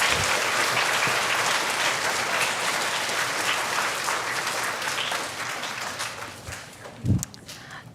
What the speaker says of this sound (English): Let's give a round of applause to our kindergarten friends